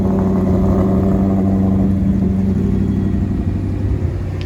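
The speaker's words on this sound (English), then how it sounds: "One last video of that track exhaust" An Audi RS5 fitted with a track exhaust idles loudly after a half-cold start, a deep, steady, droning burble held close up with no talk.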